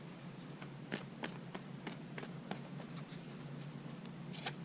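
Tarot cards are shuffled by hand, making a faint run of light, evenly spaced taps and flicks in a quiet room.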